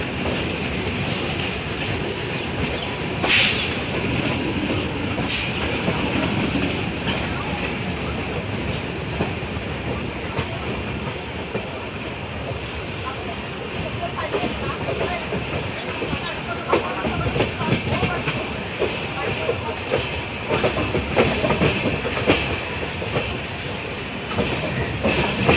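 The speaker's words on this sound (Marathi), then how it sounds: "फायनल ट्रेन आमची सुटलेली आहे" A crowded passenger train on a pilgrimage route from Mumbai toward Akkalkot runs steadily on its rails, with a continuous rumble and rattle of wheels and carriages and faint voices in the background.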